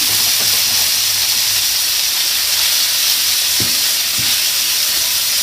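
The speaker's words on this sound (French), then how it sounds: "dés de thon dans les graines de sésame et on les jette à la poêle" Tuna cubes coated in sesame seeds sear in a hot pan, giving a loud, steady sizzle with a couple of brief clicks near the end and no talking.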